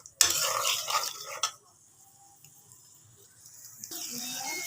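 Onion, chili and turmeric hit a hot pan with a loud sizzle and scraping stirring for about a second and a half. The cooking quiets to a faint simmer and then rises again near the end.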